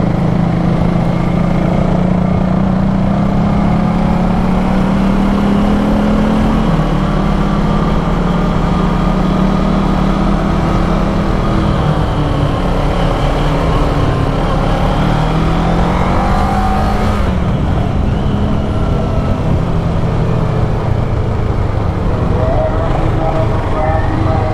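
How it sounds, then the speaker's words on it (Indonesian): A 2012 Kawasaki ER-6n 650 cc motorcycle engine drones loud and close while riding, climbing and easing through revs with steady wind rush, under occasional speech. "Jadi ketagihan bawa motor 650 cc"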